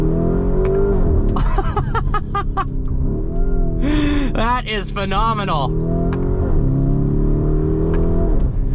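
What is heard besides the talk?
Lamborghini Urus S accelerating, exhaust backfires and upshifts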